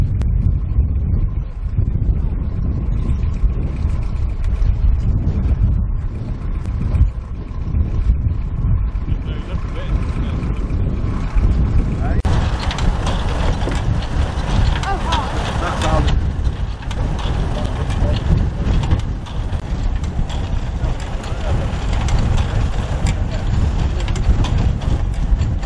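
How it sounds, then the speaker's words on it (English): A land drainage tractor winching a mole plough back toward itself, a steady loud low engine drone with a continuous mechanical whine layered over it, plus a brief rattling, clattering burst partway through. "they winch the mole plough back to the tractor."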